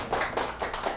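At a lecture show, the audience welcomes an author to the stage with a few soft, evenly spaced hand claps, roughly four muffled beats in about a second.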